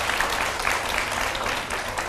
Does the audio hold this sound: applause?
yes